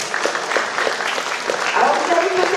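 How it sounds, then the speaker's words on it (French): A lecture audience breaks into applause, a dense, continuous wash of many hands clapping at close range, with a voice speaking faintly over it toward the end. "Oh oui, vous pouvez applaudir."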